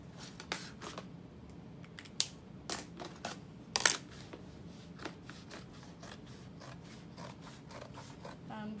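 Scissors snip through waterproof canvas for a bag side panel, a series of close, crisp cuts at irregular intervals, heavier near the start, over a soft background rustle with no speech.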